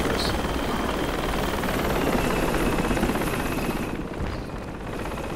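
A nearby helicopter keeps up a loud, continuous rotor roar that eases slightly toward the end, with no voices audible.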